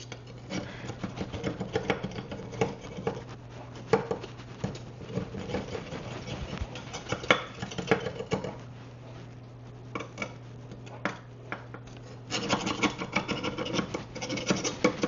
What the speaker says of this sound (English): I'm just going to go around the edges with a butter knife.